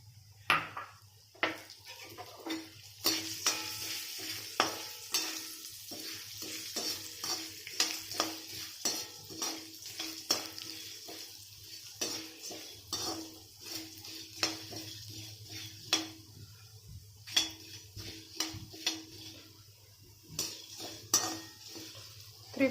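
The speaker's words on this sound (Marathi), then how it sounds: "त्रिफळा छान भाजत आली" Triphala roasting in oil in a pan for homemade garam masala, with steady spoon scraping and stirring against the metal over a faint continuous sizzle, repeated clinks throughout.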